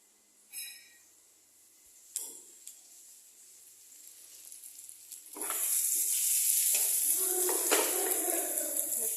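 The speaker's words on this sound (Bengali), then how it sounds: "করলা ভাজি" Bitter gourd frying in a pan gives a steady loud sizzle that starts partway through and continues to the end, after a few faint clatters and knocks at the start.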